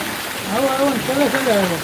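Rain pours down in a continuous hiss, heard beneath a person speaking.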